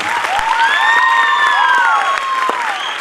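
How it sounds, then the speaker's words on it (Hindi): Audience applause for mothers performing at a dance academy annual function, clapping from a crowd mixed with loud cheering and whooping voices, fairly close and energetic. "तो एक बार इनके लिए जोरदार तालियां हो जाए प्लीज"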